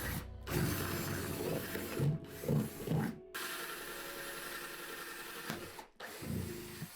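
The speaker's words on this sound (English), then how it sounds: "let's just go ahead and get some holes drilled so we can make sure that our plant has some good drainage" A power drill bores drainage holes through the bottom of a plant pot, a steady grinding whir broken by short pauses and brief surges as each hole is cut, close and alone without talk.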